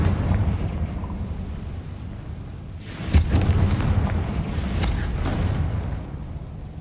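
Confringo fire-spell explosions in Hogwarts Legacy: a booming blast followed by a second burst a moment later, both heavy against a continuous low rumble of game ambience, with no speech.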